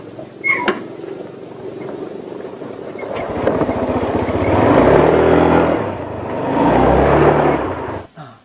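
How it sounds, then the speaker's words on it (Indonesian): A nearby motorcycle engine idles and revs, its low rumble rising and falling twice after a few sharp knocks and clatters. "Ini suara motor no."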